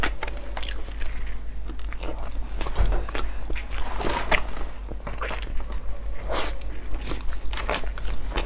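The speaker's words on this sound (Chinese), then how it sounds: "海苔肉丝被我吃完" Close, crisp crunching and biting of crunchy seaweed pork floss, irregular bites and chews repeating over several seconds, quiet and intimate with no talking.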